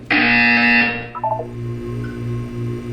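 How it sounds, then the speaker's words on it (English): A harsh, loud electronic buzzer from the video game Portal 2 sounds for about a second, then quickly fades into soft tones and a low steady hum. "You will hear a buzzer."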